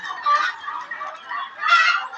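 Chickens and turkeys on a small farm give two or three close clucking calls in short bursts, with a quieter murmur between them.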